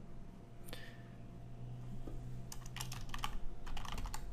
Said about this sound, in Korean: 여기서 l o c a l h o s t 라고 입력을 하고요